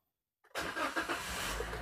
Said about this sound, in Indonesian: kita akan nyalakan mesin secara stasioner itu kurang lebih 10 menit ya